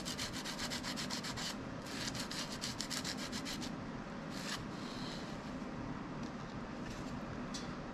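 Hand sanding of a wooden bowl: a steady, continuous abrasive rubbing close by, with brief brighter scratchy strokes early on and near the middle, no voices.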